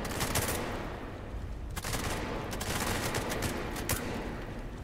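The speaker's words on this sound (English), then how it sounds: "Oh no, they were shooting at me." Gunfire rattles in an SCP video game as enemies shoot at the player, with dense, loud bursts of rapid shots that run almost without a break.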